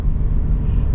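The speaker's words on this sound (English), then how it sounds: "Can definitely hear that engine." A 2021 Toyota 4Runner Limited engine under full acceleration in manual shift mode, a steady, loud low rumble heard from inside for about a second, with no talking.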